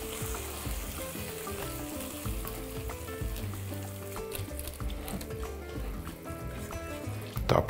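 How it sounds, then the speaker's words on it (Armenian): Fried seasoning sizzles as it is poured from a pan onto puree while making lavash pies, a continuous crackling hiss with wet bubbling and spattering that flares at the very end. "Տապակվող, այսպես ասած, համեմունքը լցնում ենք խյուսի վրա"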